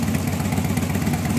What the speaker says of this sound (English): you've got to start the bike and let it run for a few minutes and inspect it for leaks